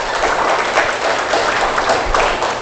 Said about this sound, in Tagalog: Malakas na palakpak sa ating Panginoon.